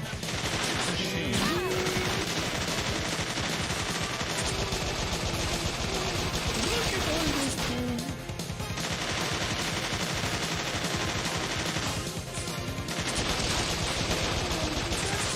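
Continuous machine gun fire roars through a Bot Vice shootout, loud sustained bursts with brief pauses, layered with other game effects.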